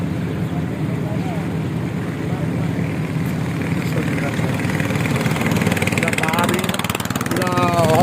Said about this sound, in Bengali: এই যে পাশ দিয়ে আর একটা নৌকা যাচ্ছে